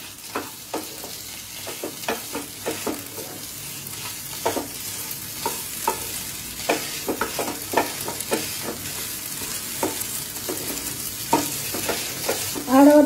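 Chicken singara filling with potatoes fries in a pan while being stirred, sharp scraping clacks repeating every second or so over a soft constant sizzle, close-up with no talking.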